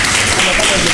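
Dense, steady applause from a studio audience during a live midday show, loud and continuous throughout a very short moment.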